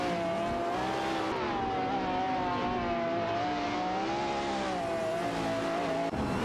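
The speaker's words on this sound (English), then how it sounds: "The cars are driven by artificial intelligence, and it's quite exciting to see them race each other." Simulated race cars under AI control, among them an Aston Martin Vantage AMR and a Noble M600, roar past in a video game race, with steady engine drone and shifting pitch that stays loud and close throughout.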